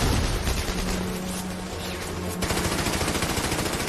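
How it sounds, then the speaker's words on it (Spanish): German machine guns hidden on a hillside open fire in a WWII battle: a loud, dense, continuous rattle of gunfire with a steady low tone underneath, the bursts breaking off sharply midway before the firing resumes. "Aparecen algunas ametralladoras alemanas ocultas en la ladera."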